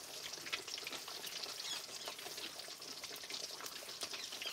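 Jamaican snapper fish frying in hot oil in a pan outdoors, a dense, steady crackling sizzle, close and moderately loud, with no voices.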